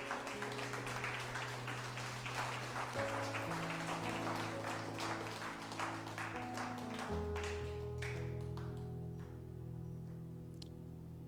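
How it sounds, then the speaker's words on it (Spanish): A church congregation clapping for the Lord, a scattered patter of hands over sustained organ or keyboard chords, fading toward the end. "Y si le va a dar palmas, déselas fuertes al Señor"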